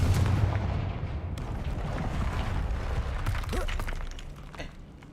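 A Confringo blasting spell from Hogwarts Legacy lands as booming, crackling blasts mixed with shattering debris, loud and close, then fading over several seconds.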